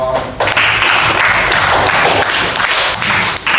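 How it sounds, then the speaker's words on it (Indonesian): Applause from a class during an Indonesian Islamic religious education teacher-training lesson: a dense burst of hand clapping that starts abruptly after a brief pause and holds steady and fairly loud for about three seconds. "tepuk tangan ya dong."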